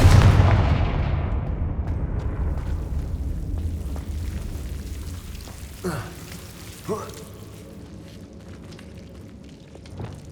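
Fiery Confringo spell blasts from Hogwarts Legacy: a heavy booming burst opens loud, then decays into a long crackling rumble, followed by two sharper smaller impacts and a final hit.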